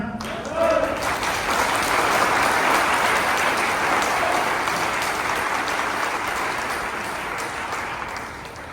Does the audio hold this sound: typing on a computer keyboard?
no